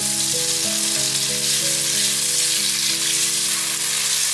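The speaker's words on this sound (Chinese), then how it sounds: "素鸡放进来略炒一下" Vegetarian chicken and ginger slices stir-fry in hot oil in a wok, giving a loud, continuous sizzle with a sustained background tone and no talking.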